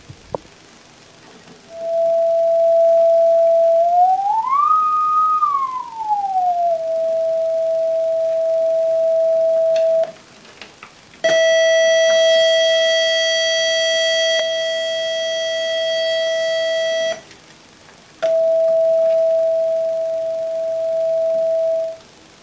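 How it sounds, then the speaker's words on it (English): A steady sine tone near 600 Hz from a Heathkit IG-5282 audio generator plays through a small powered speaker, loud and continuous, briefly sliding up in pitch, then switching to a harmonic-rich buzzy square wave before returning to the pure tone. "Here we're listening to about 600 Hz."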